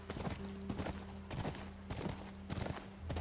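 Horse hooves clip-clopping at a walk in The Last of Us, rhythmic clusters of hoof strikes over a soft sustained musical tone, moderately close.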